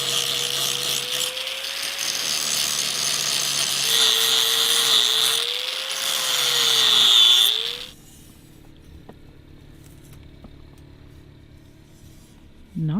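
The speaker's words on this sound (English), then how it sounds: "We're going to put on the grinding wheel. it's a little thicker. We're gonna be able to grind down those welds." Angle grinder with a thick grinding wheel grinding down metal welds on a small shelf bracket, a loud steady whine with shifting pitch that cuts off abruptly partway through, leaving quiet room noise.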